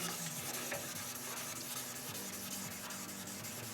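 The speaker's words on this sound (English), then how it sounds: "then we're going to hit it with the old buffing wheel and see what happens." A buffing wheel polishes a 1955 Buick glove box lid, a steady close whirring hiss with rough rubbing texture and no talk.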